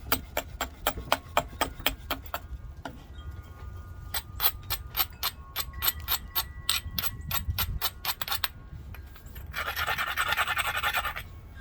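Flint being beveled by knapping: a rapid series of sharp, close clicking taps in quick bursts, pausing then resuming, followed by a brief scraping hiss, all without speech.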